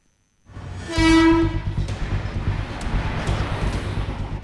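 A loud train horn blasts for about a second, followed by the rumbling, rattling roar of a passing train on the Thiruvananthapuram–Kollam route.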